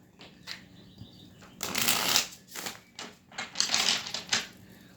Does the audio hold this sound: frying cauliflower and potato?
no